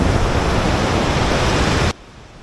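Glacier-fed Himalayan river rushes in a loud, steady broadband roar close by, cutting off abruptly near the end to a much quieter hiss.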